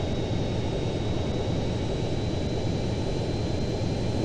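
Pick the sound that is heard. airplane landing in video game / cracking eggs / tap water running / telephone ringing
airplane landing in video game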